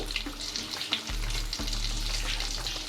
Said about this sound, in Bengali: ডিমের চপ কাটলেটটা হয়ে গেছে প্রত্যেকটা এখানে অলরেডি ভাজা শুরু করে দিয়েছি